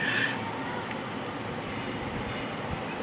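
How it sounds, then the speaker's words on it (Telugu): The Nagarsol–Narsapur Express pulls into platform 1 at Guntur station, with a brief wheel squeal at first and then a steady, heavy rolling rumble of the carriages, with no talk. "గుంటూరు రైల్వే స్టేషన్ సంబంధించిన ప్లాట్ఫారం 1కి అయితే మన ట్రైన్ అయితే చేరుకుంది"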